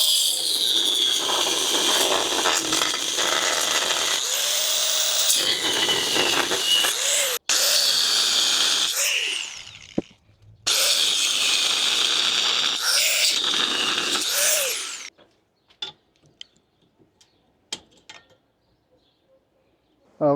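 Loud continuous grinding hiss from cutting a notch in a steel subframe spacer for a lifted Miata, running steadily with two brief pauses, then stopping and giving way to scattered light clinks and taps.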